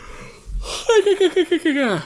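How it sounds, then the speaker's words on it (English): A drawn-out human yawn rises into a wavering voiced groan that pulses several times and then slides downward. It lasts about a second and a half and is heard up close. "Sorry for the yawn."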